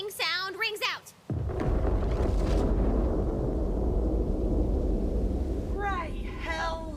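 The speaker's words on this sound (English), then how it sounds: "a great, big, booming sound rings out" A huge booming roar from the fantasy game Tiny Tina's Wonderlands hits after a short line of speech and rumbles on loud and sustained for several seconds, with voices returning near the end.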